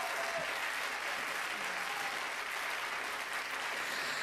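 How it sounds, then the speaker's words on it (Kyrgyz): A crowd applauds after a live song performance, a continuous even roar of clapping for over four seconds, moderately distant and unbroken. "Баракелди, кол чабуулар сизге."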